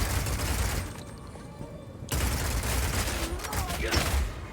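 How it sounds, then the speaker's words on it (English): Crossbows firing in the action game Path of Exile 2, with dense rapid volleys of shots and booms layered into a loud, continuous barrage that briefly thins before surging again. "In Path of Exile 2, we have crossbows that work like sniper rifles, shotguns, and assault rifles."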